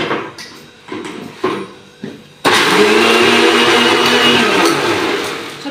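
Electric blender whirring while lassi is made at home, a few short pulses followed by a loud steady continuous run.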